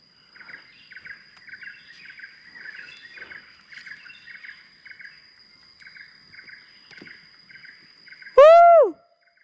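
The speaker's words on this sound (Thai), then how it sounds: "นกกระดกทั้งนั้น" Birds calling in a forest on a hillside, a steady series of repeated chirping bursts with a faint insect drone throughout, ending in a sudden loud, close sweeping call.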